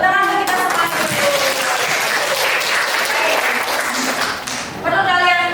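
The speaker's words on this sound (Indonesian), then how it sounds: "tepuk tangan untuk kita semuanya dulu" Applause from a group gathered in a room, a dense burst of clapping lasting several seconds, with voices heard just before and after.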